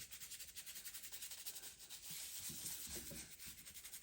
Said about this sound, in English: we can get a brush, and with the brush, that again helps you get the wax into all those crevices